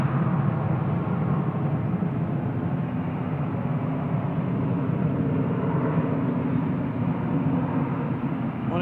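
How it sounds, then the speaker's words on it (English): A Ryanair airliner arriving from Dublin roars at Manchester Airport, a steady, broad jet rumble heard from a distance that holds constant throughout. "Ryanair from Dublin is the one in the background."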